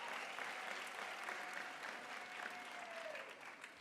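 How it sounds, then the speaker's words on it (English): Sustained applause fills a university graduation ceremony hall, an even wash of many hands clapping at moderate distance, with a faint tone and murmur beneath it. "Can we also give him a big round of applause?"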